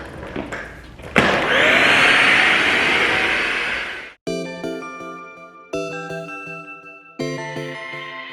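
A household vacuum cleaner switches on and runs with a loud, steady whine for a few seconds before cutting off, followed by bright, ringing musical notes.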